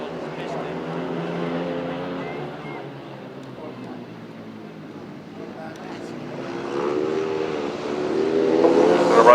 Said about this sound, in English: Race 18, 500cc sidecars next.